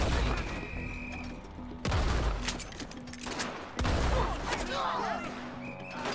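Sawed-off shotgun firing normal rounds in Red Dead Redemption 2, two loud close blasts about two seconds apart over busy game background with shouting and crackling gunfire.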